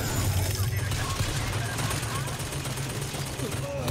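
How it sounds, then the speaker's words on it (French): A machine gun fires in BioShock Infinite, a steady rapid burst of gunfire lasting several seconds, loud and close. "prendre le contrôle de la mitraillette de merde qui me tire dessus"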